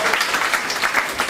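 Brief burst of audience applause at a comedy show, dense clapping from a crowd filling the whole moment without a pause.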